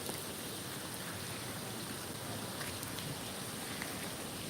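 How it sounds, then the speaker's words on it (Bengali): Rainwater drips from trees beside Gulshan Lake in Dhaka after heavy rain, a dense, even patter of drops hissing without pause, with no voices. "এখন শুধু গাছের পানি পড়তেছে"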